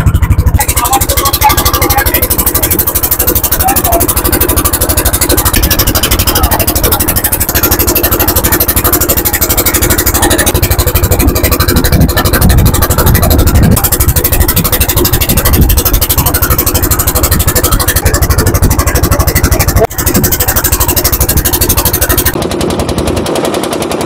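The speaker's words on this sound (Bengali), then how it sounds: "এই ছোট্ট নৌকোয় এই মাঝ নদীতে ঢেউগুলোকে ভাঙতে ভাঙতে যখন এগিয়ে চলেছে" A small motorboat cuts through waves in the middle of a Sundarbans river, its engine chugging loudly and steadily up close throughout, with broadband splashing and rumble.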